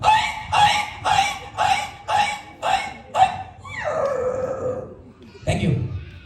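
A comedian at a Mumbai comedy show vocally imitates a dog, giving about seven rapid, evenly spaced barks, then a drawn-out falling yelp, a pause and one final sharp bark, loud and close.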